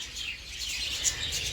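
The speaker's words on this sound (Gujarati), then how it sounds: "કેટલા મસ્ત મસ્ત પોપટ છે" Parrots at Kankariya zoo in Ahmedabad give faint, high chirps and squeaky calls from a distance over a low background hum, with no voices.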